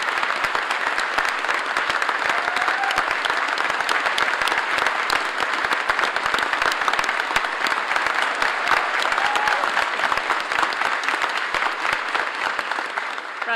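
At a University of St Andrews graduation, the crowd breaks into long, steady applause for Alan Cumming's honorary Doctor of Letters, a thick roar of clapping that holds at an even level throughout.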